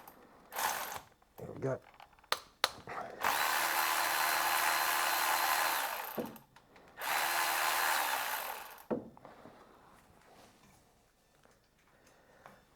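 An old Milwaukee power tool fitted with an E10 socket undoes a water pump bolt on a Vauxhall Corsa D 1.2, giving two loud sustained whirring bursts of about three seconds each, close up, with short ratcheting clicks and brief speech in between.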